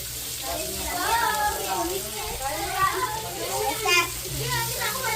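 Water poured into a pan of chicken curry cooking on the stove, a steady sizzle and bubbling with a brief louder splash near the end, while people talk in the background.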